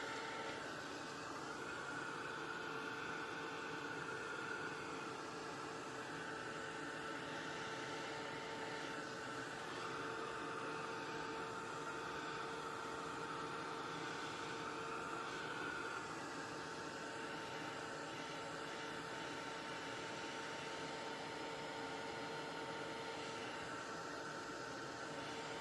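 An electric drying tool, likely a heat gun or hair dryer, blowing a steady airy whir over wet paint on mixed-media artwork, continuous and even throughout with a faint constant hum.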